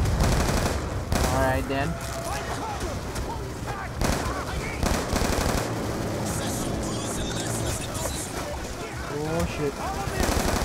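Machine gun cover fire in the Call of Duty: Black Ops 2 campaign: dense, continuous automatic gunfire with scattered bursts and impacts, loud and near, while a voice speaks briefly over it.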